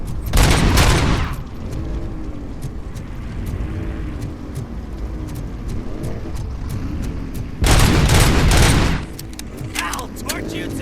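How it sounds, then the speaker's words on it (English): Bursts of gunfire in the RoboCop video game, loud rattling volleys at the start and again later, with engine-like rumble and speaking voices between them. "who the hell is shooting at me?"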